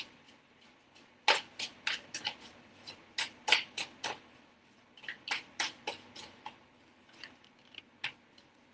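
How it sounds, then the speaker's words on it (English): A deck of tarot cards being riffle shuffled up close, crisp bursts of snapping card edges in quick rhythmic runs, several rounds separated by short pauses, no talking. "I shuffled them 3 times."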